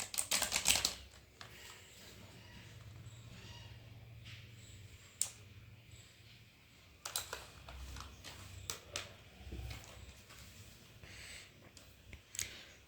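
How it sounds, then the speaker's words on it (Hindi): A Cosmic Byte CB-GK-27 Vanth mechanical keyboard with a plastic build is typed on in quick, uneven clacking keystrokes, close and fairly quiet, with no voice. "देख सकते हो मैकेनिकल कीबोर्ड है।"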